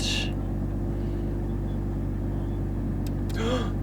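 A 2023 Toyota GR Supra with a six-speed manual hums with a steady, close, low engine drone that holds even throughout, with a brief higher sound near the end.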